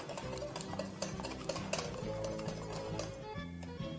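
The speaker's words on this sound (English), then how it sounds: "And just proceed to whisk everything together once more." Crepe batter with a little olive oil is whisked in a bowl, quick rhythmic clinking and scraping strokes repeating close by at moderate volume, with no talking.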